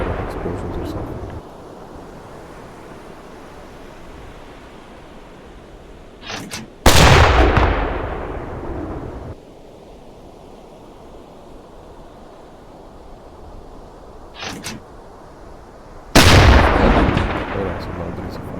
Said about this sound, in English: it's a tanker and we are firing high explosive